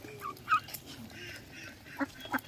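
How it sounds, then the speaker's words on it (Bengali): A few short, nasal quacks from ducks being fed at close range, scattered among brief pauses. "দেখো কত হাঁস"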